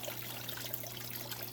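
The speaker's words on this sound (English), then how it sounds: "as long as that water is dripping into the tank down there" Water dripping and trickling into a waterfall aquarium tank gives a steady, close splash and burble over a constant low pump hum, with no voices.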